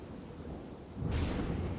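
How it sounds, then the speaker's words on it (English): Rain falls steadily during a thunderstorm over Cincinnati, and a deep rolling thunder rumble swells up partway through, loud and close over the continuous downpour. "A storm is brewing in Cincinnati."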